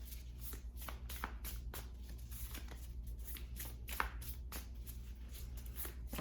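Tarot cards being shuffled by hand, a continuous soft riffling with repeated light flicks and taps, close and fairly quiet over a low background hum.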